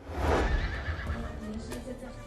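An Arabian horse neighs at a desert horse festival, a loud whinny swelling early and trailing off over roughly two seconds, with faint hoof clip-clop and background voices underneath.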